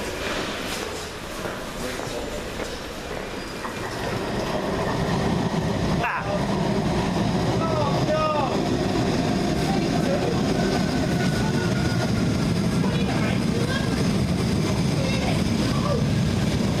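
Tram rolling along rails on the East Lancs Railway route, a continuous rumbling ride noise that swells after a few seconds and holds steady, with occasional squeals and clicks from the track.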